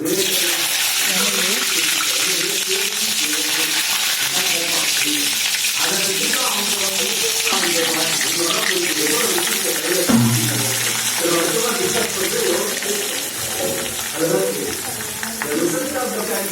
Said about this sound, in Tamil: எண்ணெய் காஞ்சிருச்சு இதில் கடுகு போட்டுக்கலாம் வெந்தயம் போட்டுக்கலாம் சீரகம் பூண்டு வந்து முழுசாக போட்டுக்கலாம்